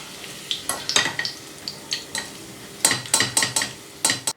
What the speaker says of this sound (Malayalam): കിസ്മിസ് ചേർത്ത് വീണ്ടും നല്ലപോലെ വഴറ്റി കൊടുക്കണം